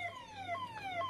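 An ambulance siren wails in a steady, repeating descending sweep, continuous and fairly loud over a low background hum, with no voices.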